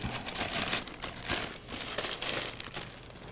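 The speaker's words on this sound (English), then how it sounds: "Remove the plastic." Thin plastic wrapping crinkles and crackles in bursts as it is peeled off DJI Mini 2 SE drone propellers, close and fairly quiet, with no voices.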